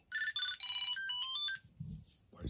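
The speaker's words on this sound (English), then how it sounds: "I could press this twice and my phone will ring." A phone rings after being triggered by a Tile tracker card, giving a loud, bright electronic ringtone melody of quick repeated tones that stops abruptly, followed by a brief low rustle.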